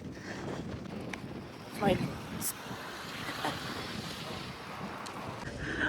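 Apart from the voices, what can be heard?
wind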